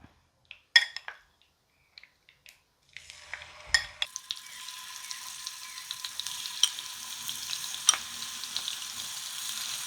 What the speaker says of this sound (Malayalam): എണ്ണ നന്നായിട്ട് ചൂടായിട്ടുണ്ടേ ഇതിലേക്ക് നമുക്ക് ചിക്കൻ ഇട്ട് കൊടുക്കാം